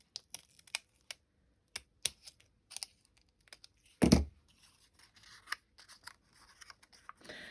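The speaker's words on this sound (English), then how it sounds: "I try to keep my scissors moving in one movement" Scissors snipping paper while shaping a gift tag, a series of short, sharp, close cuts at irregular intervals, with one louder rustle of paper partway through; quiet otherwise.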